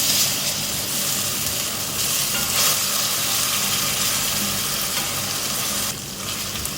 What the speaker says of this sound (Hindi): लहसुन अदरक का पेस्ट डाल के 1 मिनट मैंने इसको फ्राई कर लिया है।